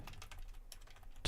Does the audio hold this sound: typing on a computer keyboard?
yes